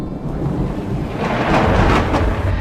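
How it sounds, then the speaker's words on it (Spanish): A thunderstorm with heavy rain gives a loud, continuous roar and deep rumbling thunder that swells toward the middle. No voices are heard. "Rayos y truenos, lluvia devastadora."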